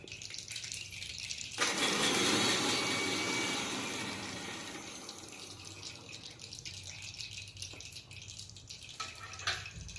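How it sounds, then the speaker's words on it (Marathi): A kitchen mixer grinder blitzes garlic for a pulao, a loud whirring burst that kicks in after a quiet start, holds strongly for a few seconds, then eases into a steadier, softer grind before stopping. "त्यानंतर आपण लसूण बारीक करण्यासाठी मिक्सरमध्ये टाकून एकदम त्याला बारीक करून घेऊ."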